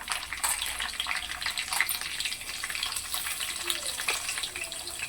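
Green chillies dropped into hot tempering oil with seasoning seeds for a mushroom curry, giving a steady, moderately close crackling sizzle with fine popping throughout.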